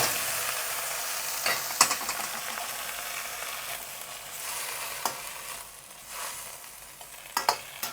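Blanched liang leaves are stir-fried in a pan over low heat beside egg, a continuous close sizzle with scraping stirring strokes and occasional sharper clatters.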